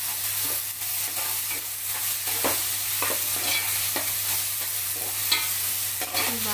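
Dry fish curry being stirred in a pan, with steady scraping and stirring strokes over a constant low sizzle and a faint background hum, no voices.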